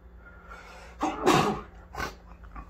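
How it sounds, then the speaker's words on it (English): A sudden sneeze bursts out near the microphone, followed by a second smaller sneeze or sniff about a second later, over a low steady hum. "Already sneezing."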